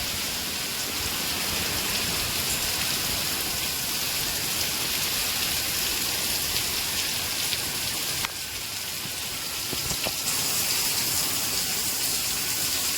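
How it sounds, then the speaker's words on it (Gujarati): Heavy rain pours down in Gujarat during a windy storm, a dense, steady roar of water that stays loud and unbroken throughout, with a brief dip and a few sharp knocks near the end. "વરસાદ પણ એક નંબર આવ્યો, કાંઈ ઘટે નહીં."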